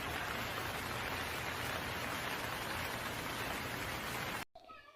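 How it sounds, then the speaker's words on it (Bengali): Heavy rain in a Bangla cartoon village scene, a loud, steady downpour that hisses without a break for about four and a half seconds and then cuts off abruptly into near silence. "হঠাৎ করে আকাশে বিজলি শুরু হয় এবং ঘন বৃষ্টি"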